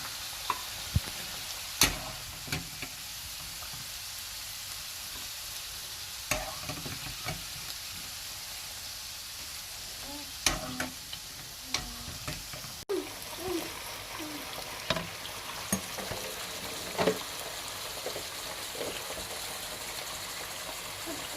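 Steady crackling sizzle of potatoes frying in a pan, with occasional louder pops and the scrape of stirring, no talking.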